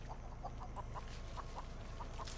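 A chicken in the Texas Chain Saw Massacre video game clucks in a steady series of short, soft clucks, repeated evenly over a low background hum with no talk.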